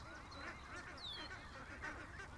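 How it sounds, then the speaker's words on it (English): Frightened little ducks honk and squawk faintly in the distance, a few thin, scattered calls over a low, steady background rumble. "We have some little ducks that are freaked out."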